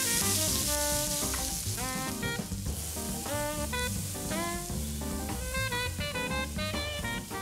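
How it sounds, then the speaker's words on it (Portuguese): Onion frying in a very hot wok gives a loud, continuous sizzle that runs throughout, blended with bright tonal melodic sound. "Assim que o wok estiver bem quente, vamos começar com a cebola."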